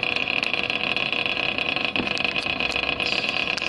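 Electric motor turning at about 1100 rpm in a lab practical, giving a steady, even hum with a bright high whine held throughout, close and constant with no talk over it.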